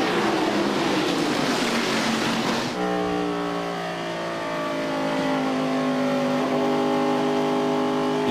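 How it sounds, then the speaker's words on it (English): A pack of stock cars at the 1997 Pennsylvania 500 roars into turn one on a restart, a dense rushing engine wall giving way to sustained, steady engine drones that hold loud and close throughout. "as we take green at lap 127, and they thunder down into turn number one"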